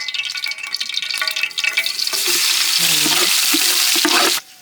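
Crushed garlic sizzles hard in sesame oil during village-style Chinthamani chicken cooking, loud and close, with stirring scrapes, before the sizzle cuts off abruptly near the end.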